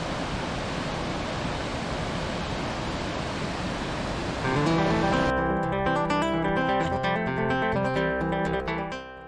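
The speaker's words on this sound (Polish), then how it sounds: "Tuż obok szumi malowniczy wodospad." A waterfall beside a lake in Norway's Lofoten region roars as a steady, broadband rush for about four and a half seconds, then instrumental music with sustained tones takes over and masks it until the end.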